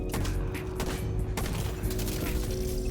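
Gunfire in a Division 2 PvP match comes as rapid, dense shots with punchy bursts and mechanical clatter, close and loud throughout.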